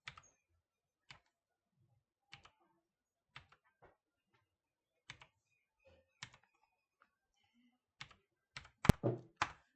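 Sparse, quiet keystrokes on a computer keyboard as a PAN card number is entered, isolated clicks spaced about a second apart, ending in a quick denser burst of keys near the end; no speech.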